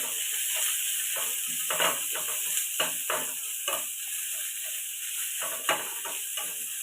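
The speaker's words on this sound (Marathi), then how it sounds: "ही जी पेस्ट केली आहे ती पेस्ट आपण यामध्ये टाकून घेऊया आणि सगळं एकजीव करून घेऊया" Garlic paste is stirred into a frying potato mixture for vada pav, with a spoon scraping and clacking against the pan in irregular strokes over a constant loud hiss of sizzling oil.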